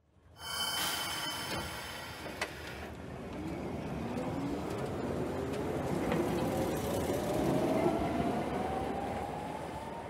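Continuous rumbling tram in motion, with a rising whine of the motor and rattling wheels over the track, heard from inside.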